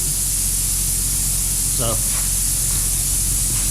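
Spray foam insulation is applied inside a molder planer and sawmill building, giving a loud, continuous hiss that runs unbroken throughout while a voice briefly speaks over it.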